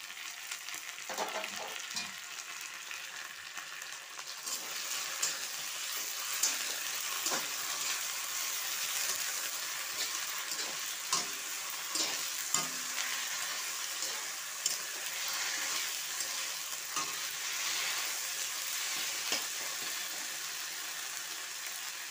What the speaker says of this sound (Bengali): মশলাটা আমার প্রায় ভাজা ভাজা হয়ে গিয়েছে